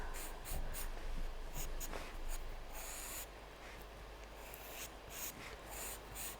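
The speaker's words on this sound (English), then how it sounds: "drawing this again curved line, just to show the shape of the flower" Pastel pencil scratches steadily across paper while drawing the curved lines of a lily flower, a close, continuous dry rasp with repeated strokes and brief pauses, heard alone.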